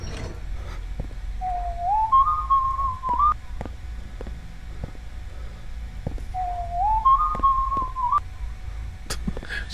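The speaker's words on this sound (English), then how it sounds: "So if I stand over here, I can hear them whistle." Two rising then level whistled phrases in the video game One Night, repeated a few seconds apart, over a low steady hum with scattered clicks and taps.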